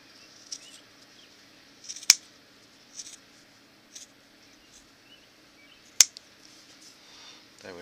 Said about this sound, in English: Now I'll just show you how to trim off this little bit here.